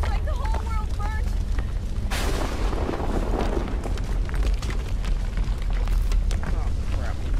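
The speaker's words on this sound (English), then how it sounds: "Oh crap, the forest fire" A forest fire roars in the horror video game Outlast 2: a steady windy rumble swells abruptly into a loud, dense crackling blaze about two seconds in and keeps churning throughout.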